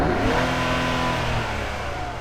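A Nissan 400Z revs hard with intake and turbo sound, a steady, loud, close engine roar that holds through the whole moment with no talk over it.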